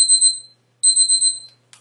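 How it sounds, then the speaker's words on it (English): A timer alarm goes off with fast, shrill electronic beeps in rapid pulsing bursts, separated by a short gap, loud and close with no talk over it. "That's my timer telling me that I'm out of time."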